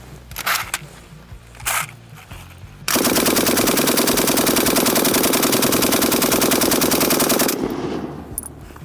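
A DP-27 light machine gun fires one long, sustained automatic burst lasting several seconds, loud and close, after a couple of brief, softer noises.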